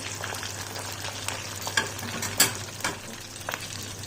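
Kola flying fish fry in a pan with a close, steady sizzle, punctuated by several sharper crackling pops and spatters, with no talk.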